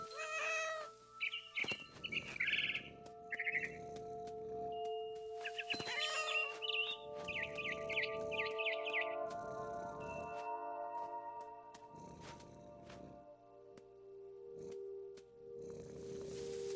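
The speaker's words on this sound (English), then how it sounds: "Then I heard chirping outside my window." Bright barn swallow chirps and trills in What Remains of Edith Finch come in short bursts over a low sustained musical drone, with soft thuds and clicks scattered throughout.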